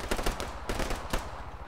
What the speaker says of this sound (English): Heavy fire southeast.